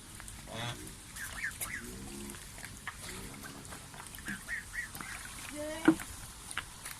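Assorted ducks and geese at a hotel's small zoo give scattered honks and quacks of varying loudness, with a sharper call near the end, against an open outdoor background and no talk.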